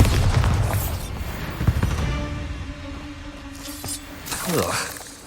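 Deep booms from the Bombarda spell in Hogwarts Legacy burst out at the start and again near the end, thick and rumbling over ongoing game sounds.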